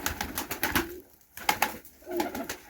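Pigeons cooing in a pigeon loft, repeated soft throaty coos in rhythmic bursts with short pauses, close and clear, no talk.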